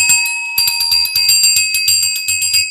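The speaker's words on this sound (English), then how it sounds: "That's enough bells." A hand bell ringing again and again in quick repeated strokes, bright metallic tones sustained between shakes, loud and close with no talking.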